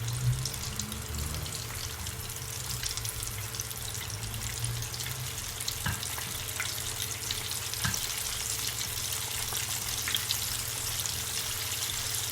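Chicken wings fry in hot oil in a big pot, a steady, dense crackling sizzle running continuously, with a couple of faint knocks partway through.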